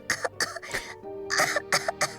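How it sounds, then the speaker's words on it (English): A baby character in Genshin Impact coughs in a rapid series of harsh bursts, two clusters of about three coughs each separated by a short pause, close and loud over low game music. "Coughing baby."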